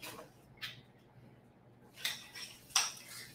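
A utensil stirs about a tablespoon of extra light olive oil in a pan, with a few sharp metallic clinks and scrapes against the pan separated by quiet gaps.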